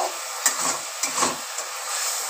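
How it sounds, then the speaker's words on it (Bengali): Spices and sugar are sautéed in a pan, giving a soft steady sizzle broken by a few light stirring scrapes. "এইবার ভালো করে একটু কষিয়ে নেব।"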